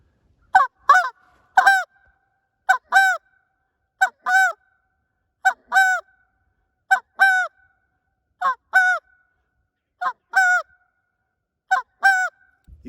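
Short reed Canada goose call blown in paired two-note honks, a clipped first note followed by a higher second, repeated about ten times in a steady rhythm, close and clear against silence.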